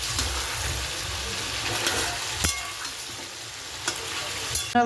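Meat frying in a pan before the spices go in, a loud continuous sizzle with stirring scrapes and a few knocks near the end, close by and without voices.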